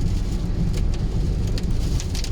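Rain falls steadily during a drive in a car on Michelin CrossClimate 2 tyres at about 70 km/h, producing a continuous loud wash of rain and road noise throughout.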